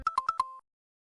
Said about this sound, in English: Yes, Super Mario World pause screen.